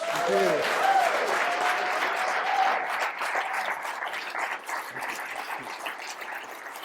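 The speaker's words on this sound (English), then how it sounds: "Big round of applause for Ezra." Sustained applause from a room full of people at a journalism awards event in Calgary, steady clapping that continues throughout, with a voice briefly audible at the start.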